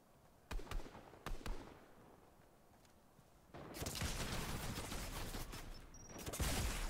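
Explosive shots from Fortnite's BOOM Sniper Rifle crack twice as sharp separate blasts, then a sustained burst of loud overlapping detonations and crackling follows, with no talking.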